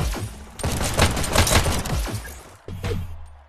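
Rapid, loud volleys of gunfire in a VR shooter, dense bursts of shots packed together with a brief pause before another short burst.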